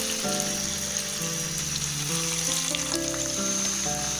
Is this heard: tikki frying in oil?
yes